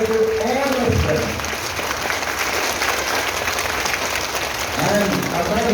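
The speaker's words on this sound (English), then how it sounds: "So big round of applause for all of them." Workshop participants clap together in a sustained round of applause while a voice talks over the start and end of it.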